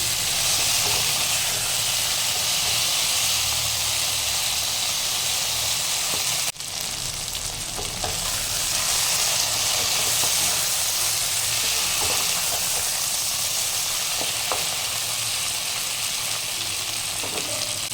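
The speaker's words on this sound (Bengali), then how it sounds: "গুঁড়ি কচু আর আলুটা এখানে ভালোভাবে তেলের উপরে ভাজা হয়ে গেছে" A dense, steady sizzle of taro and potato frying in oil fills the whole stretch, with faint stirring scrapes and a brief clatter partway through.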